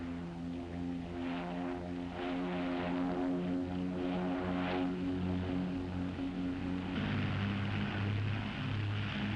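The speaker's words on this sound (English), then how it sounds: "That your brother's plane?" A propeller airplane drones steadily overhead, its engine tone shifting in pitch partway through as it passes, loud and continuous for the whole stretch with no talk.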